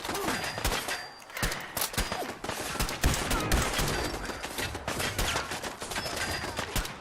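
Dense, sustained gunfire in Fallout 4 VR, with rapid overlapping shots and bursts packed closely together across the whole stretch, loud and continuous.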